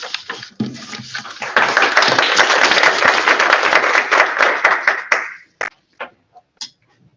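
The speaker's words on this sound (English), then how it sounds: "I would have said to hold your applause for the end" An audience applauds to welcome a speaker at a library author event, dense clapping building quickly, holding steady for several seconds, then tapering off into a few scattered claps.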